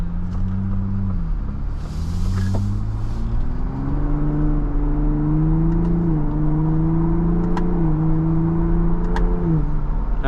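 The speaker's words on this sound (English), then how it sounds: "The engine sounds pretty insane." A 2024 Ford Bronco Raptor's V6 engine revs steadily while driving, its low droning tone climbing and holding through the run. The engine note stays loud and continuous from the cabin, with no voices over it.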